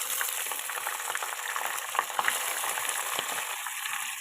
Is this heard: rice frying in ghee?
yes